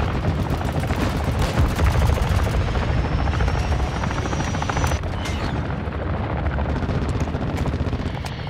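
An enemy helicopter gunner in Modern Warfare 2 multiplayer: a loud, steady rotor drone fills the scene, with rapid bursts of gunfire and a heavy boom cutting through.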